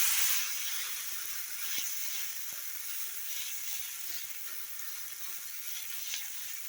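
Bread adai batter spread on a hot dosa griddle gives off a steady, close frying sizzle, a continuous hiss with a few faint clicks and no talking.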